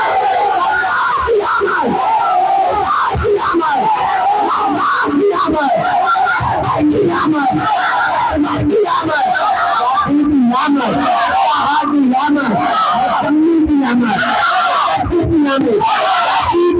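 A crowd at a Muhammadi procession in Fatehgarh chants the religious slogans Naara-e-Takbeer and Naara-e-Risalat in rhythmic unison, loud and continuous, voices rising and falling together throughout.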